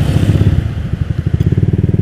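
Honda Vario 150 motorcycle engine tuned with a backfire ECU setting, idling close up in a loud, lumpy, uneven rhythm with rapid pops and crackles in the exhaust, no talking.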